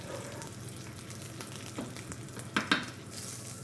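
Veal sweetbreads sear in a hot pan with a continuous close sizzle, and two brief sharper pops or scrapes come near the end.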